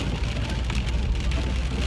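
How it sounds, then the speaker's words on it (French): Steady rain falling outdoors during a food delivery run, a dense, continuous hiss and patter with low rumble, likely traffic, throughout. "Et puis il pleut beaucoup."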